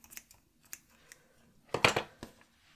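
Scissors snip off a white yarn strand during crocheting, with a few light clicks followed by one louder close cut, then a final small snip, all in a quiet room.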